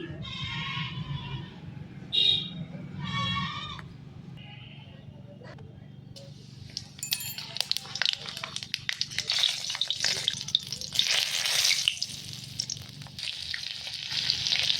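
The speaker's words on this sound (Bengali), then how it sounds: "তো পেঁয়াজটা লাল লাল হয়ে গেছে" Onion frying in a wok: after someone speaks briefly, bursts of crackling sizzle and scraping stirs grow louder and busier, close and uneven.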